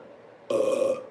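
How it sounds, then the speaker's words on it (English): A short, close burp after drinking red grape juice, a single rough belch that starts abruptly and lasts about half a second alone. "Red grape juice burp"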